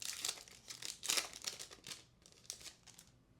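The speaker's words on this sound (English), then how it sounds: "Go ahead and get ripping." Foil packs of 2024 Topps Signature Class football trading cards being torn open, close crinkling and ripping in a few quick bursts that fade toward the end, no talk.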